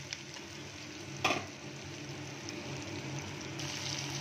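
Chopped tomato fries with onion in a pan, making a soft, continuous sizzle with one brief louder clatter of stirring near the start, faint and close, with no talk.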